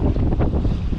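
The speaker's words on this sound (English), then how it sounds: "Watch out, wind noises." Strong wind buffeting the microphone aboard a single-handed sailboat crossing the Bay of Biscay, a loud, close, gusty rumble with rushing air and faint water noise beneath.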